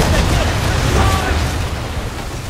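Ship cannons firing in the Assassin's Creed 3 video game, a dense booming roar of shots that fades over a couple of seconds.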